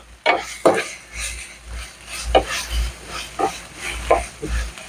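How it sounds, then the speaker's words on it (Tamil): Chicken liver masala being stirred in a pan, a spoon scraping and knocking against the metal in a few loose strokes, fairly close with low sizzle underneath. "நல்லா கிளறி விட்டுங்க"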